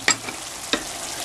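Ground pork frying in a pan after long simmering, with liquid drying off: a soft continuous sizzle broken by two quick scraping strokes of a utensil, close and fairly quiet, with no voices.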